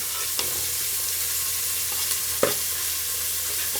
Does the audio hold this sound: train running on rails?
no